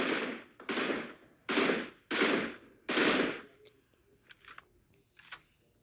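Spray gunfire in PUBG Mobile rings out as five loud, rapid automatic bursts in quick succession, followed by a few fainter, scattered shots with no talking.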